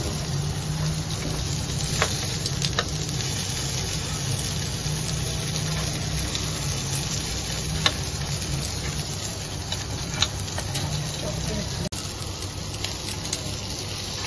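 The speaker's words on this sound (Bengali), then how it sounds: "আবার একটু সাইড সাইড দিয়ে আবার ফ্রাই করবো।" Seekh kebabs frying in a pan, turned side to side as they brown, give a steady, dense crackling sizzle that runs throughout without pause; no one speaks.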